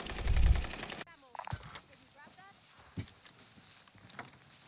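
Nail gun firing in Call of Duty: Vanguard Warzone on Rebirth Island, a loud rapid burst of shots in the first second, then scattered quieter game sounds with faint voices.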